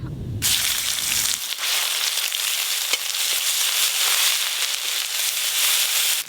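Turmeric powder and spices fry in hot mustard oil for a spicy Sundarbans crab curry, a loud, steady sizzle running throughout after a brief initial stir, with no voices.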